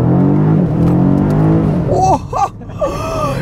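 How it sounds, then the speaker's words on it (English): BMW M5 CS engine accelerating on winter tires, a rising, strained roar that builds over the first two seconds, then short revving swells, heard from inside the car with some voice over it. "We can give it a little acceleration here."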